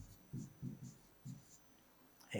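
Short scratchy strokes of writing, a handful of soft bursts in an uneven rhythm, close and faint against a quiet background.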